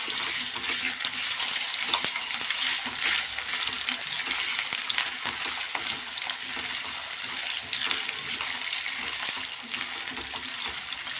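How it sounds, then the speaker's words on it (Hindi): Potatoes for aloo palak fry in hot oil with garlic and chilli, giving a loud, steady sizzle that crackles continuously and up close with no voices. "आलू को तेल के अंदर 1 मिनट कम से कम फ्राई कीजिए"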